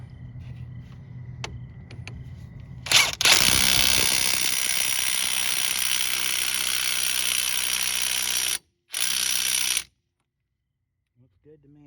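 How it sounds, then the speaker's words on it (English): A power tool drives a bolt home on a 2001-05 Kia Rio front wheel bearing, starting with a sharp clank and then whirring loudly and steadily, cutting out briefly, resuming, then stopping into near silence. "we can go ahead and drive our bolt home for good this time"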